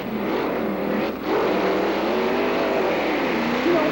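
A Corvette engine roars steadily in the VET racing video game, loud and continuous with a brief dip before the revs climb again, no voices.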